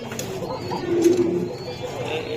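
A pigeon coos close by in a low, rolling call, with faint background murmur.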